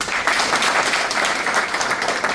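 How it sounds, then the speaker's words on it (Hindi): Loud, dense applause fills a seminar hall in Ahmedabad, Gujarat, with many hands clapping at once in a steady roar that holds for the full stretch, and no voices come through. "जोरदार ताली"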